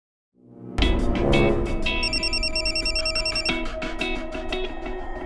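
A telephone rings with a bright, repeated electronic trill, loud and close, sounding steadily on its own with no talk.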